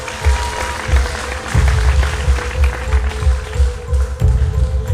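Audience applause for a singing contestant at a televised vocal competition, a steady clapping crowd rising and falling slightly without pause.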